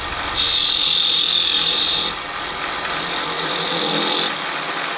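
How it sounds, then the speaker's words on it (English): A skew chisel scrapes and cuts into spinning mesquite wood on a midi lathe, giving a steady close hiss with two longer high-pitched whining passes as the tool works the center. "I use this old skew here, start the inset, and I'll just kind of work the wood out of the center here."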